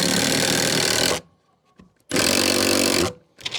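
Power drive driving long screws into scrap wood pieces of an L-shaped planter: two loud, sustained bursts of whirring motor about a second each, separated by a brief quiet pause with small clicks, close and alone.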